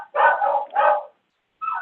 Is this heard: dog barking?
yes